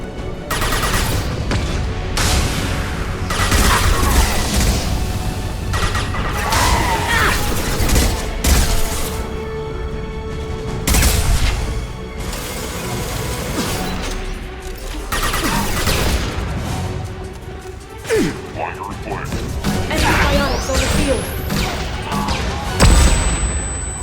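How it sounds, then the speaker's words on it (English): Mass Effect 2 combat scene with flashbang blasts and gunfire: a dense, loud, continuous barrage of shots, crashes and booms that barely lets up for the whole stretch. "Watch out, flashbangs!"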